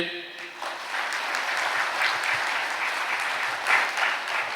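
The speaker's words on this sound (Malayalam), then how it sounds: "ഒന്ന് കൈയടിച്ചേ" An audience at a Catholic retreat claps steadily and fairly loudly for the whole stretch, a dense continuous patter of many hands.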